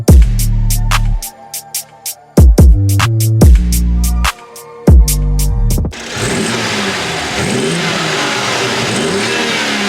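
A 2022 BMW G42 M240i fitted with an Eventuri intake, loud and close, blipped through a string of sharp revs that climb and fall, then settling into a steady idle.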